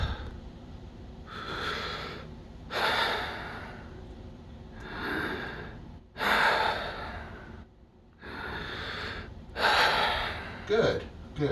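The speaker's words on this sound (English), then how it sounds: "Go ahead and take a few deep breaths for me." A patient takes several deep breaths during a lung check for asthma, slow audible inhalations and exhalations repeated in a steady rhythm, close and fairly loud.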